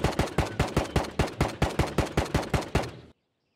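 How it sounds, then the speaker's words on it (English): Rapid automatic fire in Ghosts of Tabor, about fifteen sharp, evenly paced shots in one loud, close burst that cuts off abruptly into silence. "Someone just got littered with bullets."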